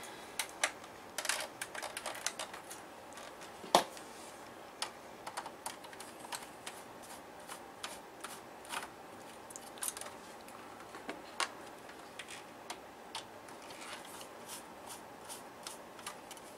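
Small screws being backed out of an Alienware X51 desktop case, heard as faint, scattered metallic clicks and ticks with a few sharper taps, quiet and close with no talking.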